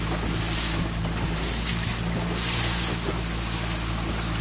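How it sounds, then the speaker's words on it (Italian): Steady roar of a rubber dinghy's motor on the sea with wind buffeting and water rushing past, loud and continuous throughout. "Guidi il gommone?"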